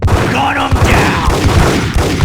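Gunfire from the Max Payne video game, a dense fusillade of shots crackling continuously through a busy, loud game mix, with a voice speaking over it.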